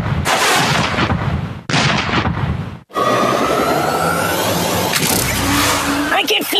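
Rapid gunfire and explosive booms from the Kick The Buddy mobile game fill the whole stretch, loud and continuous, with brief gaps and game effects layered on top.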